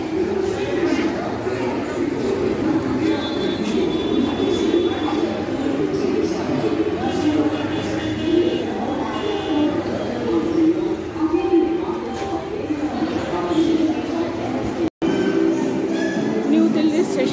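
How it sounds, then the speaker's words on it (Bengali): Busy ambience on a platform at New Delhi railway station in India. A dense, continuous hubbub of many voices and movement fills the scene at close to moderate range, with no single sound standing out. "আছি আমি নিউ দিল্লি রেলওয়ে স্টেশন।"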